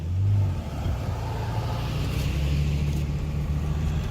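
Convoy of lifted off-road vans, Ford Econoline E-Series style, rolling past with a loud low engine rumble and a brief rev at the start, steady and close.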